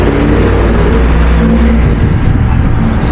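A Jaunt public bus rolls along a downtown street in Charlottesville, giving a loud, steady engine rumble with road noise that stays close throughout.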